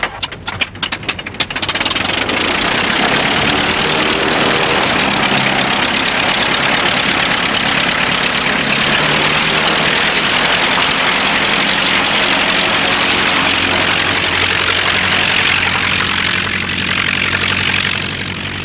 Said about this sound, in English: That engine's running a bit rough, isn't it?